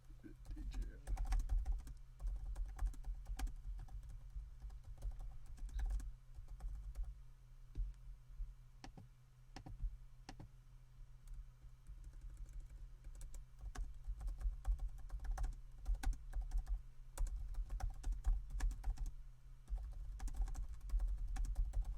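Rapid clicking keystrokes on a computer keyboard run steadily throughout, close and fairly quiet, with people talking at low level in the room.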